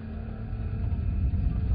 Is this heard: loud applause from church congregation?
no